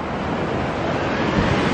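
Ocean waves on a beach, a loud continuous roar of surf and wash with wind buffeting the microphone, steady throughout and with no voices.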